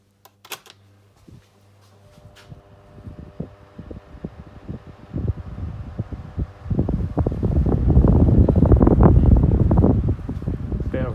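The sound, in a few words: 1995 CED and 1993 Astor 12-inch desk fans running on low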